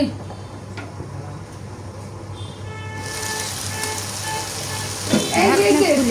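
Malabar spinach sizzles in a frying pan as it's stirred, a steady hiss with a louder, busier burst of frying near the end.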